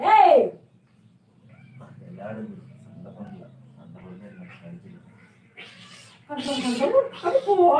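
Cats fight at home, with a loud yowling caterwaul at the start and another burst of snarling meows near the end, while people talk quietly in between.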